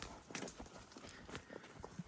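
A ranch horse's hooves clip-clop along at a steady walking pace in the Colorado countryside, the footfalls moderately close and fairly quiet, with no talking.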